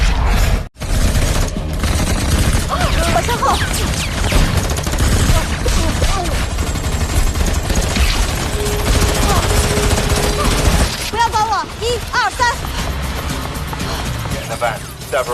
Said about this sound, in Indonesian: Dan akhirnya baku tembak pun tidak terelakkan lagi.